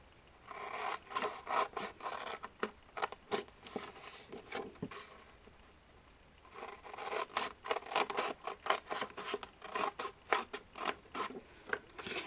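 Scissors snip and slide through a paper craft base in two bursts of close, rhythmic cutting with a brief quiet pause between them.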